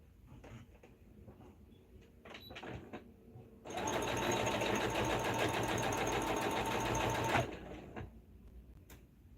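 A sewing machine stitches blue jeans in one steady, loud run of rapid needle chatter lasting a few seconds, framed by quiet handling noises before and after.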